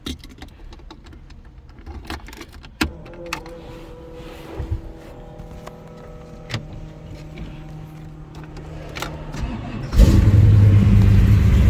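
Keys jangle and click in the ignition of a chopped, shaved 1940 Chevy hotrod with a 350 engine, then the engine cranks and roars to life, loud and close, at the very end.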